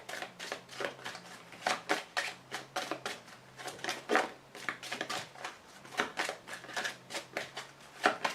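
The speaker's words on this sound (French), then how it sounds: "Je vous tire également une carte de l'archange Gabriel qui va vous apporter conseil et protection." Oracle cards being shuffled by hand, a quick regular run of soft papery flicks and slaps that continues throughout at close range, fairly quiet.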